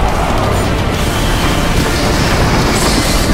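Steady rumbling of a moving train heard from inside a carriage, with continuous wheel and rail noise and faint clickety-clack, loud and unbroken throughout with no talking.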